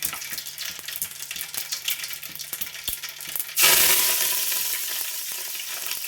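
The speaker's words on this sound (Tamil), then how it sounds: "கடுகு நல்லா பொரிஞ்சு வருது பாருங்கள்" Mustard seeds splutter in hot oil with rapid close crackling and small pops, then a sudden loud hiss bursts up and slowly fades.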